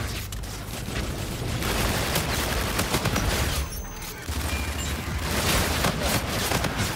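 Rapid, continuous automatic gunfire in the video game Call of Duty: Infinite Warfare, loud and dense bursts with a brief pause midway before the shooting resumes.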